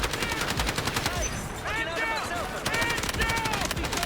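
In the shooter game Delta Force, a weapon fires dense, rapid automatic bursts up close, the clatter nearly continuous with a short gap as if reloading, while a player talks over the gunfire.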